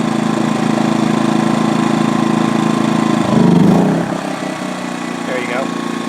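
A Predator 2000 generator engine runs on a remote fuel tank with a steady, close mechanical drone. A brief louder rough burst comes midway, then the running continues slightly quieter, with a voice talking over it.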